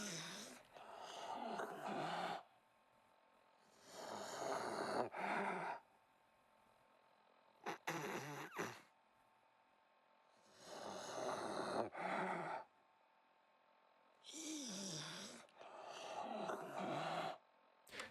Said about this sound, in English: yet again, it is just a ghoul breathing into the mic